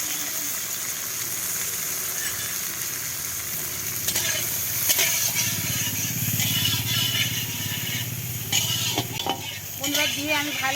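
Cashews and raisins fry in ghee with a steady, loud sizzle, while a spoon scrapes and stirs the pan in irregular strokes and occasional clinks. No one speaks.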